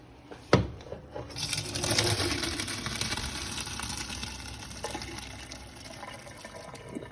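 Freshly cooked macaroni noodles and their hot water poured into a colander, a sharp clank at the start followed by a steady rushing, splashing pour that continues throughout, with no talking.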